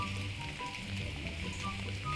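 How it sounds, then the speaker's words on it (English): Steady rain at night near a yurt at a Saxon village campsite, a dense, even patter of drops on surfaces with no voices, holding constant throughout. "So it's been raining, as I said earlier"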